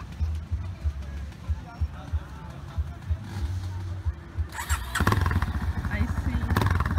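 A trail motorcycle engine revs and idles at the start line of a trail riding event in Eldorado, the engine note rising sharply into loud throttle blasts near the end, with voices talking over it.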